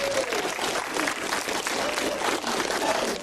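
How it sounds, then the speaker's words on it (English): An audience at a worship concert applauds, with steady, dense clapping from a crowd filling the room and continuing throughout. "You can give her a round of applause if you want"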